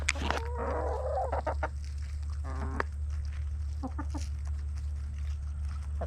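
Chickens cluck in short, irregular bursts over a steady low hum, with a louder squawk near the start and softer clucks scattered through the rest, fairly close by.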